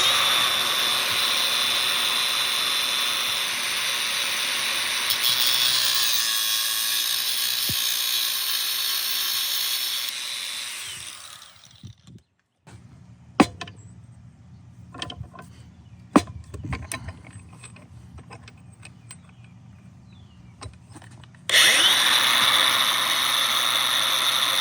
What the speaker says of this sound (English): So let's go take the grinder to it.